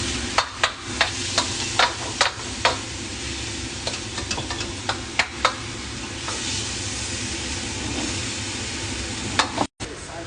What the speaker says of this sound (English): minced meat can have quite a high fat, moisture content. So sometimes it can take a bit longer to fry